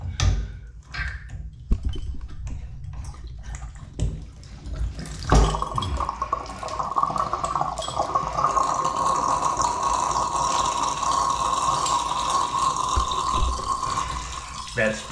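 Water rushing through overhead piping, a steady loud hiss and flow that starts abruptly partway through and continues to the end, following clattering handling noises and some talk.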